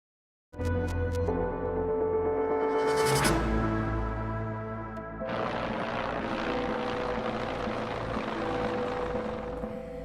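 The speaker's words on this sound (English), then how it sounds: "A Griffin helicopter from 5 Wing Goose Bay flew past the hospital and RCMP" Griffin military helicopter from 5 Wing Goose Bay passing a hospital in Happy Valley-Goose Bay, a loud steady rotor and engine roar that rises as it approaches, then continues broad and sustained alongside rumbling wind.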